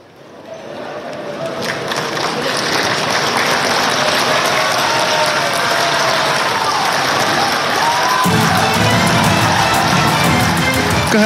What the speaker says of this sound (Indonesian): Hasto Kristianto disambut riuh tepuk tangan dari anggota Kongres PDIP